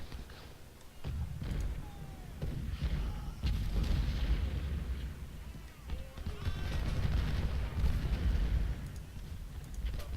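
Artillery fire in the Civil War strategy game Ultimate General: Civil War, a rolling series of distant booms and rumbling bursts layered over dense battle noise, with occasional sharper cracks.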